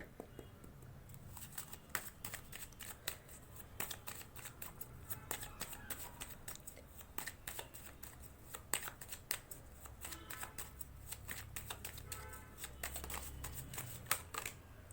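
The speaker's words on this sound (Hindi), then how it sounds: "तो जब तक मैं शफलिंग कर रही हूँ गाइस" Tarot cards being shuffled by hand, a steady run of quick papery riffles and flicks, close and fairly soft, continuing throughout with low background hum.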